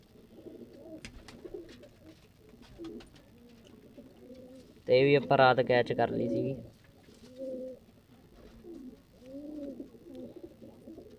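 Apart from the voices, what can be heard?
pigeons cooing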